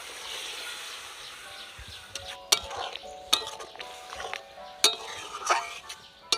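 A spoon stirs boiled rajma (kidney beans) into oil-separated fried spice masala in a pot, sounding as soft scraping and wet stirring punctuated by several sharp metallic clinks against the pan, fairly close.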